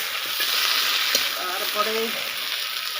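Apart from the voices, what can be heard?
potatoes frying in oil with cumin paste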